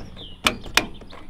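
A truck fuel door on a flatbed build shuts with two sharp, close metallic clicks about a third of a second apart, alone over a faint background hum.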